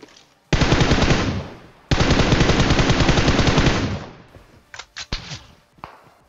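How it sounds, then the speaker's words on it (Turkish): Loud automatic gunfire in PUBG Mobile on the Erangel map: two long sustained bursts of rapid shots, followed by a few scattered single shots that fade out. "Arkamızı vuruyorlar dur."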